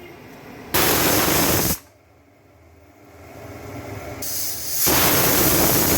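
A pressure cooker cooking beans and tomato lets out two loud, steady steam whistles, each a broad hissing blast lasting about a second or more, with a quieter hiss between them and no talk.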